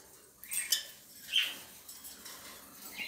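Lovebirds shred dry corn husk straw for nest material, giving faint, scattered rustling and crisp tearing sounds with a few soft, brief high chirps, close but quiet.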